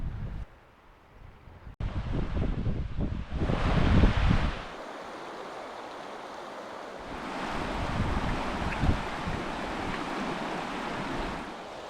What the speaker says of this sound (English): There's a little waterfall, rapids sort of thing down there.